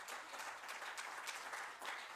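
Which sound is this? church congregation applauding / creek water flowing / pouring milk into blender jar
church congregation applauding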